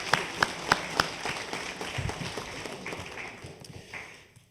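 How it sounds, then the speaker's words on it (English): Scattered applause from the audience at a high school graduation ceremony, a few sharp claps up front followed by a softer, thinning patter from a modest crowd. "If you could please give me and them a round of applause."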